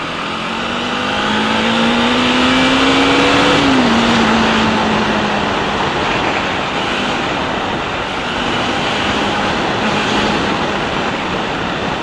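A 2018 Bajaj Dominar 400 motorcycle cruises along an open road, its engine note steady and loud under heavy wind rush, with a brief rising pitch around a gear change before settling into a continuous drone.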